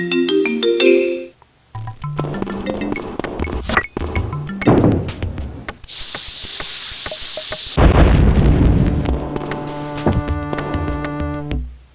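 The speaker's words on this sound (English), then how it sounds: "Shows how these small bombs work. You can see that we can collect 4 of them. And they make a little explosion." Small bombs go off in the MS-DOS game Lode Runner: The Legend Returns, with several short synthetic bursts and pops among chiming game music and effects, fairly loud and with no talk.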